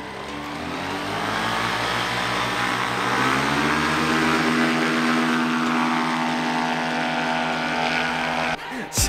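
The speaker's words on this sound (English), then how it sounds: "so he's just getting familiar with the engine now." Paramotor engine running loud and close as its pilot gets used to it, a steady droning buzz whose pitch climbs and then holds high before dropping abruptly near the end.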